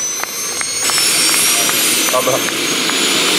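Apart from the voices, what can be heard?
jet engine of a Pitts aerobatic plane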